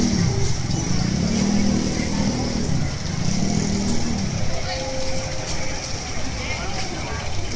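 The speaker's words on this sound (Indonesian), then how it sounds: "Mga motor-motor dito." Motorcycles and cars pass along a busy city street near a rotonda, their engines a steady near drone with rising and falling hums, while people talk over the traffic.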